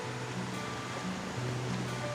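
River water flowing steadily near a bridge with cottages in General Nakar, Quezon Province, a soft continuous wash of current heard alone at low level with a faint underlying hum.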